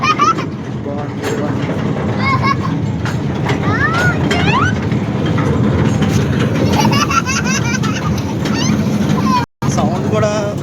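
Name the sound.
train running through the jungle, clickety-clack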